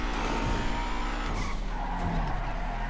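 Tires skidding and squealing on a car understeering through a turn in GTA V, a continuous loud scrub with engine noise beneath, steady across the whole stretch.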